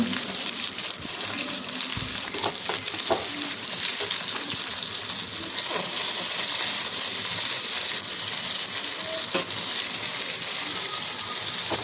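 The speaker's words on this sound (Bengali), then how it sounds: "এবার আমি উল্টে পাল্টে মাছগুলোকে ভেজে নেব" Steady crackling sizzle of Bombay duck (lote fish) frying in hot oil in a pan, close and continuous, with occasional pops and soft clinks throughout.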